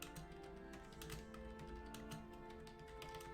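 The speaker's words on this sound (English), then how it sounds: "Sorry, I'm currently typing." Typing on a computer keyboard, with quiet, dense tapping that runs steadily through the whole moment at a low level and no voices over it.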